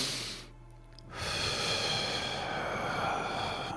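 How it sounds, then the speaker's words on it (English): Slow, deep breathing for a meditation: a soft inhale through the nose, a brief pause, then a long, steady, airy exhale through the mouth, close and quiet, with no talking. "taking 3 deep breaths in through our nose, hold for a moment, and exhale through our mouth"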